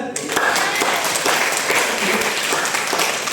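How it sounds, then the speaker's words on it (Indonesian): Dense audience applause at a poetry reading competition held in a regional legislative hall, a continuous wash of many hands clapping that is loud and sustained, with faint voices underneath. "Tepuk tangan semuanya."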